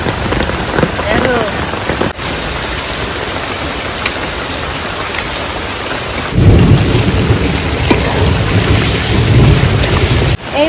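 Heavy rain pours steadily outdoors while biryani is cooked in a downpour, with distant rolling thunder under the rain and a louder surge of rain and rumble late on. It is a dense, continuous wash of sound with no talk.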